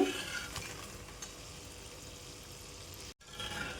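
Majjiga punugulu, buttermilk fritters, frying in hot oil, giving a steady, even sizzle with a faint stir near the start and a very brief drop-out near the end.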